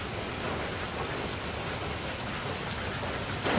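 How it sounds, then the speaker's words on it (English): Rain pours steadily onto a shelter on Pulau Ubin, Singapore, a dense, even hiss of drops close by with no letup and no voices. "it's still raining."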